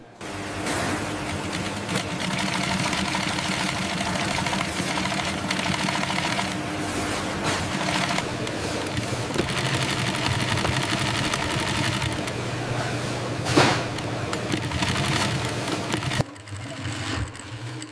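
Sewing machine stitching exotic leather footwear in a leopard leather factory, a steady close mechanical chatter running continuously for the whole stretch before cutting off near the end.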